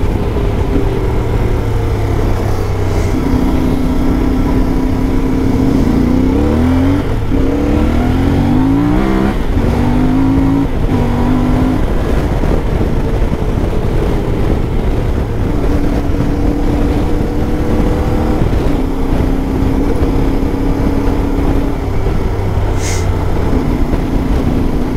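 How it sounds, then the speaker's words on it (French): A CFMOTO 450 MT motorcycle rides off-road on dirt tracks, its engine droning loudly and continuously with rising and falling revs as the rider shifts and accelerates. "C'est une machine qui est agréable à rouler comme ça là sur les chemins en off-road."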